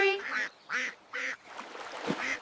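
Three bright, cartoon-like duck quacks come in quick succession, followed by a softer, busier stretch in a cheerful children's nursery-rhyme song about ducks.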